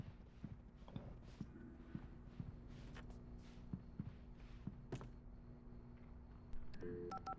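A telephone in Alan Wake Remastered is dialed, giving a series of separate button tones and clicks at a quiet level. Footstep-like thumps come in between, and a louder burst follows near the end.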